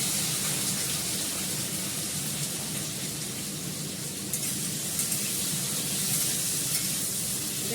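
Dal and potatoes sizzle hard in hot mustard oil tempered with asafoetida, a steady, loud, dense frying hiss that carries on without a break.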